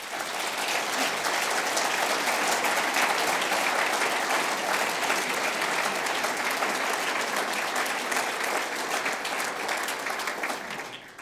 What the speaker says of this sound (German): Hier, denke ich, ist ein kräftiger Applaus geboten.